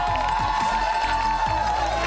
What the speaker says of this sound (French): toujours soutenus par une foule en liesse